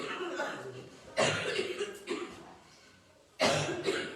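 A woman coughs in a few harsh, abrupt bursts separated by pauses, close and fairly loud, with some murmured talk around the coughs.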